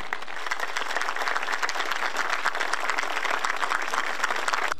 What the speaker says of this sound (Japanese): 岸田総裁がご到着されました。 どうぞ拍手でお迎えください。